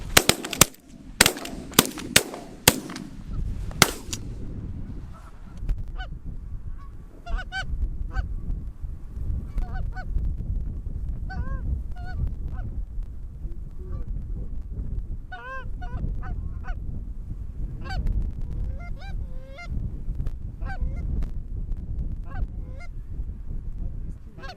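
A flock of geese honks repeatedly while coming in to land during an early-season goose hunt in North Dakota, opening with several sharp, loud gunshots before steady nearby calling over low wind rumble.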